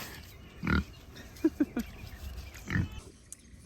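Pigs on a homestead give several short grunts, a couple of louder snorts and then a few quick closer grunts, heard near and fairly clear against quiet outdoor background noise.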